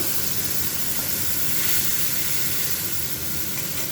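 Tomato and ginger paste, ground in a mixer, goes into a hot pan and sizzles with a loud, continuous, hissing crackle that stays steady throughout, close by and with no voices.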